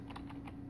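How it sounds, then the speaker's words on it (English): A few quick, crisp keystrokes on a computer keyboard, ending with the Enter key, while a command runs to flash new firmware onto an FG-100 function generator. The taps are close and fairly quiet over a steady background hum. "we're going to hit enter"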